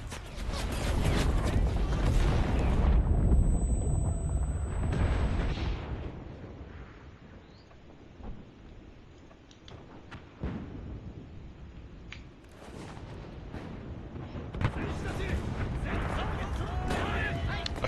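Sustained automatic gunfire in the WWII shooter Enlisted, with a loud dense burst over the first five seconds, then quieter scattered shots and battle noise, with a second heavy burst of fire later.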